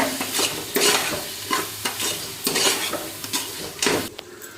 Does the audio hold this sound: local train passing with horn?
no